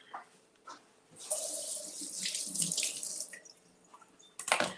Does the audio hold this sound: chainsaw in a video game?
no